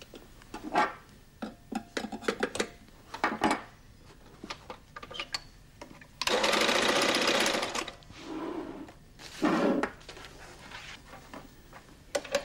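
Flexorand Speedbinder carpet binding machine sewing velour tape onto a carpet edge, one loud sustained burst of stitching followed by a shorter one, surrounded by scattered clicks and handling noises.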